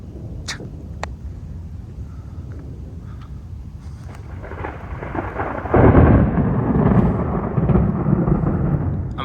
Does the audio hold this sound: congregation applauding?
no